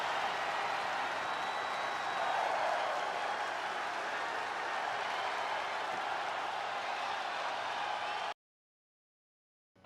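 A virtual SmackDown arena crowd in the WWE 2K22 video game, a broad steady roar of cheering that holds at an even level for about eight seconds and then cuts off abruptly to silence.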